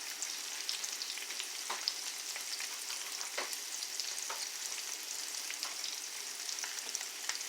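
Garlic frying in a pan while cooking pork chops, a soft continuous sizzle with scattered small pops and crackles, fairly quiet and steady throughout.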